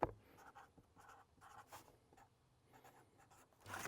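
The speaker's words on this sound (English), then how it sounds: "Writing down that information with the time and the error." Pen writing on paper close up during a shooting drill, with a quiet series of short scratchy strokes and pauses, framed by louder handling bumps at the start and end.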